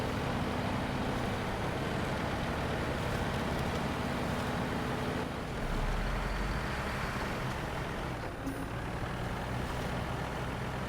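A truck engine in SnowRunner drones loudly and continuously, a dense low rumble with a brief dip and surge midway as the vehicle drives on.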